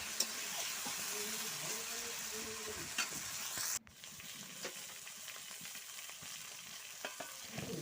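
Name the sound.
stirring and frying magur fish curry in a pan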